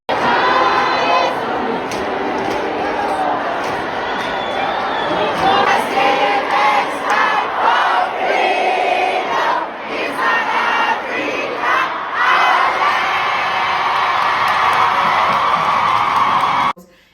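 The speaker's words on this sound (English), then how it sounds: "the crowd just stood up and started to like sing" A large concert crowd singing together among themselves, loud and dense, with shouts and cheers mixed into a sustained massed roar that dips briefly midway before surging on.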